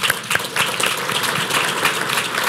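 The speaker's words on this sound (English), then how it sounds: "Can we give them all a round of applause?" An audience at a Veterans Day ceremony claps loudly and continuously for the event's sponsors, a dense even wash of applause throughout.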